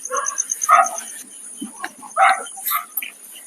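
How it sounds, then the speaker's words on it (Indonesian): A dog barks in a few short bursts at night at a cemetery, set against a constant high chirring of crickets, with quiet gaps between the barks. "Itu guguk dari tadi."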